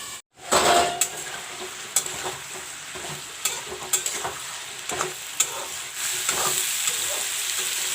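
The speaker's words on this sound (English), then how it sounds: "The Barbatti and the potato is almost fried up." Barbatti beans and potato frying in a pan, a steady sizzle with repeated scraping and clinks of a spoon stirring against the metal throughout.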